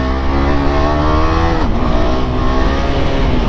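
A motorbike engine drones loudly up close, its pitch climbing, then dropping and resettling as a gear shifts partway through, with no talking.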